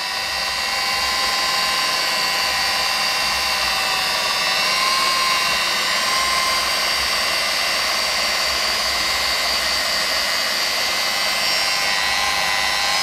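A rotary polisher spins at high speed on a car's warm, scratched paint, producing a loud, continuous high-pitched whine with a steady grinding hiss that holds unbroken throughout and sits very close.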